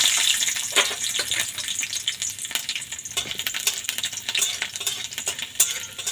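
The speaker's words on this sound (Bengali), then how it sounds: "তেল গরম হয়ে গেছে, এর মধ্যে আমি এই রসুন কোয়াগুলো ভেজে নেব।" Garlic cloves sizzle in hot mustard oil in a pan, a crackling high hiss punctuated by sharp pops and occasional stirring clinks, moderately close with no voices.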